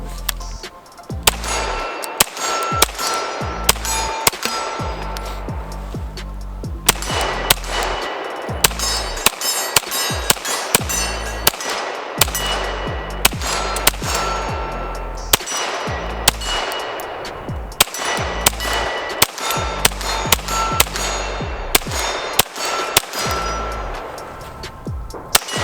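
Rapid shots from a Ruger PC Charger pistol, a long string of loud, sharp reports fired in quick irregular bursts with brief pauses, close by and without talk.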